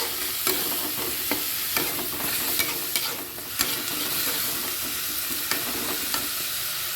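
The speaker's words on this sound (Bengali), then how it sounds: "দিয়ে ভালো করে ভেজে নেব" Onion paste frying in hilsa fish oil for a poppy-seed hilsa curry, a steady close sizzle with regular scraping stirs of a spatula against the pan every half second or so.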